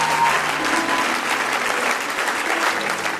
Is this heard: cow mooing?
no